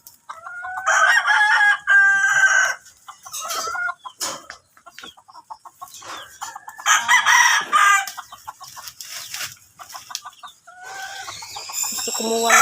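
Fighting roosters crow repeatedly nearby, several long cock-a-doodle-doo calls with clucking and other fowl sounds in between, set in a yard with a few people talking.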